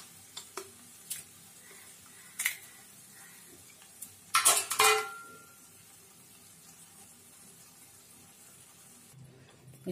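Four eggs cracked into a pan of fenugreek leaves, turmeric, chilli powder and salt: a series of sharp, separate taps, then a short, louder burst of splattering and clatter that fades into quiet.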